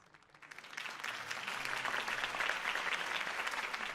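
Crowd applause for Harvey Dent's campaign speech in the Batman Telltale video game swells from a faint start into a steady, dense wash of many hands clapping at a moderate distance.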